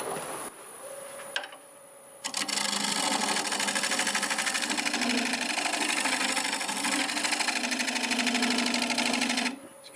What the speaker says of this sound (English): I'm going to spin the lathe a little faster than usual. We're going to stick with around 800 RPM.